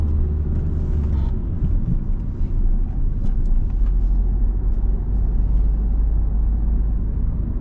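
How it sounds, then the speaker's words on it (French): A car accelerates steadily through the gears during a driving lesson at a roundabout, with low engine rumble filling the cabin continuously and no talk. "On accélère progressivement, de plus en plus, de plus en plus."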